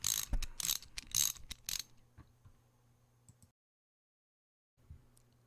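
A ratchet clicks rapidly in a few quick bursts while loosening 15mm alternator bolts on a Jeep Grand Cherokee Laredo 5.7 L Hemi, then fades to faint clicks and near silence.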